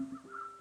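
A single crow caws nearby, a short hoarse call standing alone in quiet surroundings.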